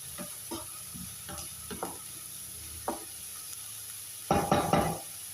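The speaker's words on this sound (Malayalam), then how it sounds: "ഉള്ളി നന്നായിട്ടൊന്ന് വഴന്നു വരുന്നത് വരെ ഇടയ്ക്കിടയ്ക്ക് ഇളക്കി കൊടുക്കണം" Onions sautéing in a pan for a papaya coconut-milk curry, with a steady hiss of frying under scattered scraping stirs and a louder clattering burst of stirring near the end.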